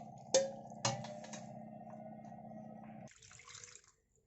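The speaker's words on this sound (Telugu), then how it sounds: "ఇప్పుడు ఇంకా ఆలస్యం లేకుండా కొద్దిగా వాటర్ పోసుకుంటూ దీన్ని బాగా కడుక్కోవాలి." Water poured from a tap to rinse vinegar-curdled milk for rasmalai, a steady running stream with two clanks near the start, then a brief softer splashing before it stops; no speech.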